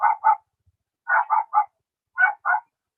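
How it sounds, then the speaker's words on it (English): A dog barks in quick pairs and a triplet, sharp close yaps in three bursts separated by silent gaps, loud and alone with no talking. "And if you can hear my dog bark"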